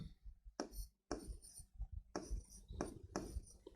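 A pen scratches across paper while a physics exam solution is written out, in quick close strokes broken by short pauses.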